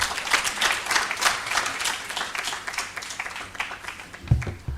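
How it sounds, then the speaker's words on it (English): An audience at a climate finance symposium for youth and women applauds, a dense, steady round of clapping from a roomful of people that carries on for several seconds before tapering off. "Another round of applause"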